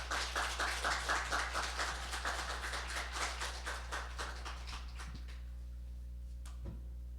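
A church congregation applauds to welcome the pastor to the front at a Sunday service. The claps are dense and steady, then thin out and fade to near silence over about seven seconds, with a steady low hum underneath.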